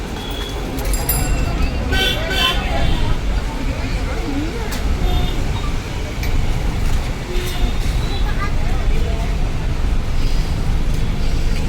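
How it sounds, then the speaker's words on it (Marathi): A busy street market in Dadar, Mumbai, with traffic rumbling nearby, a dense continuous wash of crowd noise, engines and occasional horn toots, with people talking close by throughout. "बघा हा दादरचा सगळा किलबिलाट."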